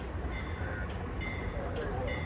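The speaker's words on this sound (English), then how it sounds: "they are using the this is the 302 MARC train here," A MARC commuter train, number 302, rumbles at a station with a low, steady rolling drone, heard from nearby with faint higher clanks and tones on top.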